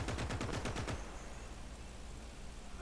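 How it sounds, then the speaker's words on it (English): Lahti anti-tank rifle fire in the WWII strategy game Gates of Hell, Finland campaign: a rapid burst of about eight loud, sharp reports in the first second, then a lingering rumbling echo and ambient battle noise. "the Lahti boys, who are just through the trees to the right, on the side of the screen will just pow, pop them with a big old anti-tank rifle"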